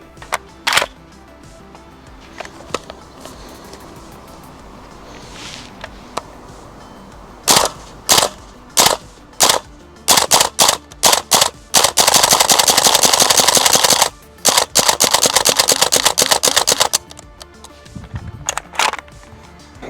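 A gas blowback airsoft rifle from the Cold War era fires loud, sharp shots alone: scattered single shots at first, then rapid bursts and a long sustained full-auto string, with a few final pops.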